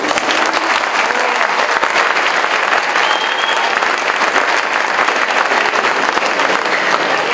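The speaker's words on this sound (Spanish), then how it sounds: "Recibimos con un fuerte aplauso al doctor Antonio Guzmán Fernández," A large audience breaks into loud, sustained applause to welcome the rector of the Universidad Autónoma de Sinaloa at a formal university event, with dense steady clapping filling the whole stretch and no talk over it.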